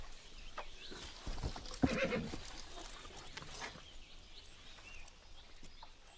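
A horse whinnies once in a loud, close burst, with hoof clatter and rustling around it against a steady outdoor background and no voices.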